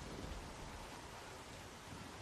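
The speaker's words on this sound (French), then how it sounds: "Il pleut avec des orages bien conséquents." Faint, steady video game rain with a low rumbling undertone of distant thunder from a storm, a constant wash of noise with no voices.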